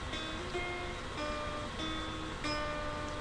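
A riff on acoustic guitar, played fast: a short string of plucked notes with sustained ringing tones, soft and close, heard alone without speech.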